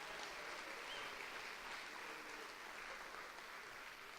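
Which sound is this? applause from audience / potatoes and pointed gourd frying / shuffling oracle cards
applause from audience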